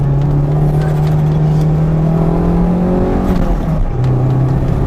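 A Toyota MR2 Turbo fitted with a BMW S54 engine accelerates hard in second gear, a loud close engine note climbing steadily in pitch, dipping briefly near the end as revs shift, then pulling again.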